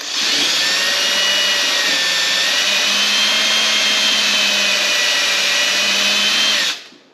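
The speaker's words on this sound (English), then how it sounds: "I'm going to take my 3/16 drill bit, and I'm just going to push in here and drill." A power drill with a 3/16 bit whines steadily and loudly for several seconds as it bores into a wooden drawer, then cuts off abruptly.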